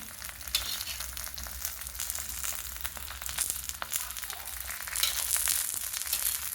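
Oil sizzles and crackles steadily in a pan, close and fairly quiet, with scattered sharp pops and a slight rise in intensity toward the end.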